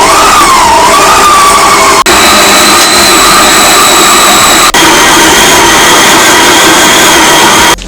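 A stand mixer fitted with a dough hook works pounded yam, giving a loud, constant high motor whine with a few sharp clicks and a slight pitch wobble early on.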